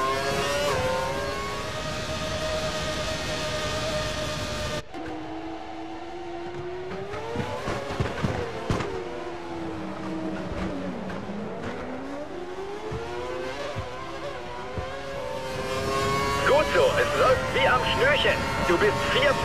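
A Williams Formula 1 car in the F1 2012 racing game at Hockenheim, its engine screaming at full revs with rising and falling pitch sweeps, while a voice talks over it.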